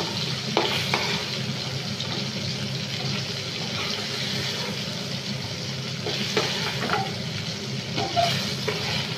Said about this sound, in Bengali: আমি হালকা করে ভেজে নিয়েছি